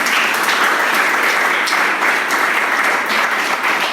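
Sustained audience applause fills the room at a steady, loud level, a dense wash of many hands clapping together with no break and no clear voices above it.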